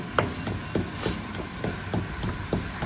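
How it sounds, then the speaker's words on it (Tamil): A knife chops onion and tomato for pepper chicken on an open terrace, striking the board in a steady, close rhythm of about nine evenly spaced thuds over a constant outdoor background hum. "இப்போ தான் ஆனியன் டொமேட்டோவை கட் பண்ணிட்டு இருக்கிறேன் சிக்கனுக்கு."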